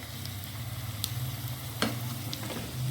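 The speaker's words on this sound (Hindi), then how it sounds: "यहाँ पे मैं इस प्याज को भी इसमें ऐड कर दूँगी" Medium-cut onion sizzles quietly in a pan with a soft, continuous frying hiss, broken by a few faint clicks of a spoon against the pan.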